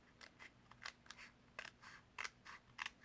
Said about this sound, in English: so I can go in here and cut alongside it